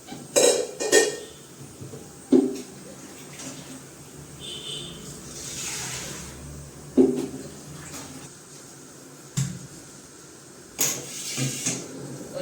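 Metal pots and a 10-litre pressure cooker clank and knock in a home kitchen as water is set to heat for boiling dal, with several sharp separate clatters and scrapes over a quiet background.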